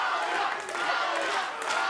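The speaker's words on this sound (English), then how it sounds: "This crowd here in Miami getting behind Claudia Zamora." A Miami crowd at a women's MMA fight roars and cheers continuously, a dense wash of voices with shouted peaks, loud and sustained with no single voice standing out.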